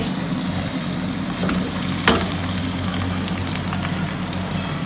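Snacks frying in hot oil in a home kitchen pan, a steady close sizzle and bubbling with a few sharper crackles and one brief clatter near the middle, no voices.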